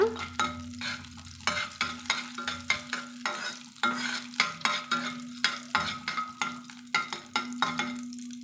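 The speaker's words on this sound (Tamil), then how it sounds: "இப்போ நல்லா நம்மளுக்கு கடுகு பொறிஞ்சு வந்துருச்சுங்க" Mustard seeds and chana dal spluttering in hot oil for a chickpea sundal, a dense run of close popping crackles and bursts over a continuous sizzle, no voices.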